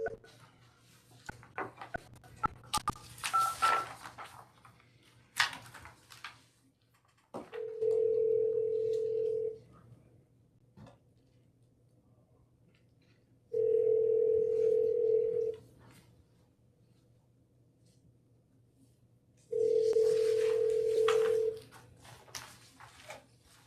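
An outgoing call on a telephone line during a Honolulu Police Commission meeting: a few quick dialing blips and clicks, then three long, even ringback tones separated by pauses of silence, heard clearly with no talking.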